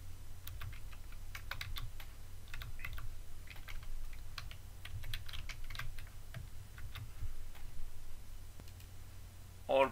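Someone types on a computer keyboard, close by, in quick bursts of clicking keystrokes with brief pauses between them, over a low background hum.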